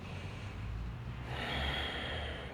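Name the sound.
deep inhale during yoga stretch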